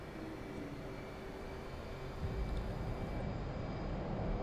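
F/A-18C Hornet jet in the DCS World flight simulator building engine roar for takeoff, a steady broadband rumble with a tonal whine that swells louder after a couple of seconds, with no talk over it.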